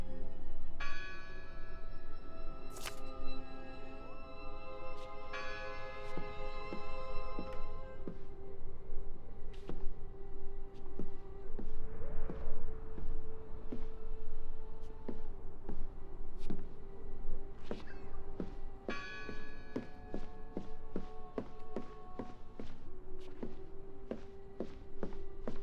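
A church bell tolls repeatedly in the Draugen video game, its resonant strikes ringing out alongside steady footsteps and a low ambient hum, with no talking.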